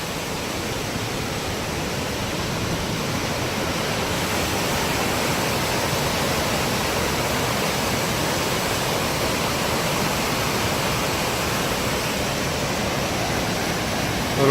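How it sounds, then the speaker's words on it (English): Broad, constant rushing of falling water fills the clip, a dense steady roar with no breaks, close and fairly loud. "wonderful waterfalls here."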